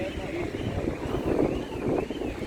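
Gusty outdoor wind buffets the microphone with a continuous low rumble that swells and eases over a couple of seconds, faint voices underneath.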